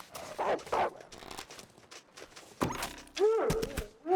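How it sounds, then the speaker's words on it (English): In the video game The Long Dark, a wolf gives a short whimper amid thumps, scuffles and bursts of noise, with higher whining cries toward the end. "I heard a momentary whimper"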